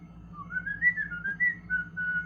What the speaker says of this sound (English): I whistle on my inhale more than I whistle on my exhale